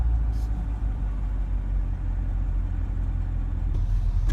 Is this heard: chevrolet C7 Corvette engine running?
yes